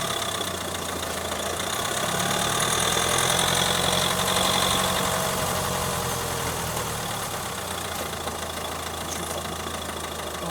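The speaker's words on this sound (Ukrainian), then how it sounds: "Тепер у нас мікрофончик закріплений під колесом поближче до внутрішнього шруза. Поїхали. Будемо слухати." A Mazda 3 drives along with the microphone fixed under the wheel beside the inner CV joint, giving a steady, loud, close rumble of road and drivetrain noise with no clear break or voice.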